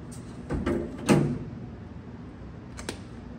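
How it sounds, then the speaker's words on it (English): A 1954 Cadillac Coupe de Ville car door clunks open with a couple of sharp knocks and a latch click, followed by a quieter click near the end; no talking. "Open this door."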